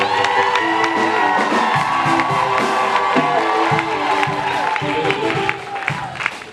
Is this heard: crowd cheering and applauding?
yes